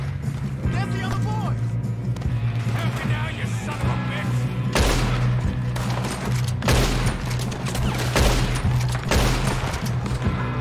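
Dense gunfire in a snowy mountain shootout from the video game Red Dead Redemption 2, with repeated loud rifle and pistol cracks in heavy bursts over steady background rumble, while people speak underneath.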